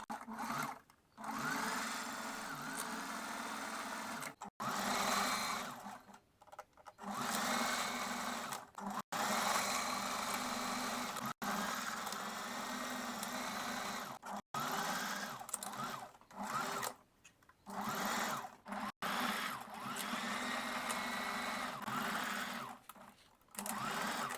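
A sewing machine stitches an elastic strap onto a bust piece, running in steady, fast mechanical whirring stretches broken by short stops, close and alone.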